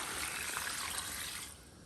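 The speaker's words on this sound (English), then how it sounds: "I am going to go in here with my coconut milk now" Coconut milk poured into a pot of crab curry, a steady close liquid trickle and splash running for over a second before easing off, with no talking.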